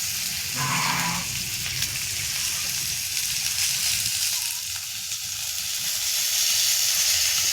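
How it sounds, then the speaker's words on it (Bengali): Pointed gourd (potol) lightly frying in oil for a village-style fish curry, a steady close hiss and sizzle with a brief animal-like bleat near the start. "অল্প করে পটলটাকে হালকা করে ভেজে নেবে সামান্য।"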